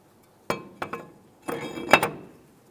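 A brake rotor being fitted onto the wheel hub of a 2002-2005 Ford Explorer: several sharp metallic clinks and knocks in two short bursts, close by, with no talking.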